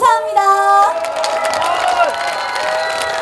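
Audience cheering and applause at an outdoor opening-concert stage show at the Jecheon Deoksan vegetable festival, a steady crowd roar that follows a brief fading musical note.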